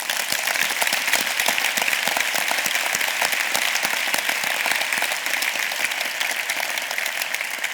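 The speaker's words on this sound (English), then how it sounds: "a big round of applause for all the students that have been helping us out as well" Conference audience applauding the students at an innovation festival closing session, a large crowd's sustained, dense clapping that stays loud and uniform for nearly eight seconds with no voices over it.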